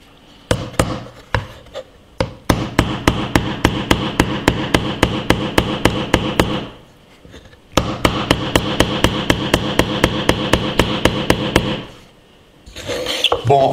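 An Oukitel K6000 smartphone is used as a hammer to drive a nail, with rapid sharp knocks in two long runs split by brief pauses, loud and close.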